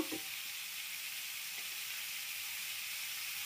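Tomato dropped into a hot pan of oil while cooking Bengali badam shukto, bringing a brief burst at the start, then a steady, close, even sizzle and hiss with no voices.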